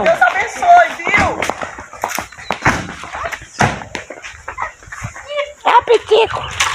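A small dog barks and yips in short, close bursts mixed with whimpers, while a person talks over and between the barks.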